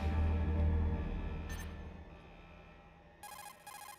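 A codec call rings in the Metal Gear Solid video game: two bursts of a high electronic trill near the end, after a fading low hum and a short blip.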